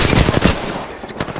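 Rapid automatic gunfire strikes the player in the Apex Legends battle royale game, a dense burst of close, loud shots rattling continuously for over a second with no speech.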